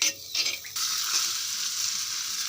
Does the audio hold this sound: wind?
no